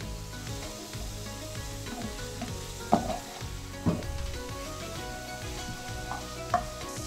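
Chicken frying in a pan with sauce for Alfredo pasta gives a steady close sizzle, broken by a few louder scraping stirs from a utensil against the pan, with no talking.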